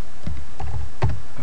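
A few scattered keystrokes on a computer keyboard while entering an affiliate link into a Namecheap domain page, soft and close with short gaps between taps.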